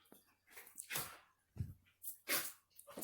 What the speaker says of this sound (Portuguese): Desculpa, minha cachorra, tá, gente?